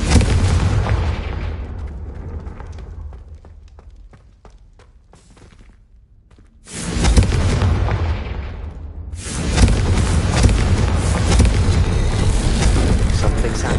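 An explosive fire-blast spell in a Harry Potter video game, a loud booming burst with a long roaring rumble that fades into quiet, then swells again into sustained heavy rumbling.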